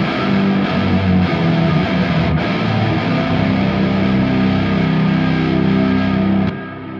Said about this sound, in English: it's literally an octave with high gain and delay and reverb